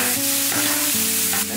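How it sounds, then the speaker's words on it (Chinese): Seasonings sizzling loudly in hot oil in a wok, a steady close frying hiss with stirring scrapes throughout and no talk, in a rural kitchen. "做料下锅"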